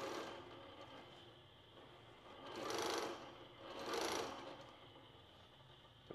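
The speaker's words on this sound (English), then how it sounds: "we're gonna pull up our thread. And begin our stitching process" A longarm quilting machine stitches through fluffy fabric, giving a faint, steady mechanical whir broken by two louder rasping swells a second or so apart.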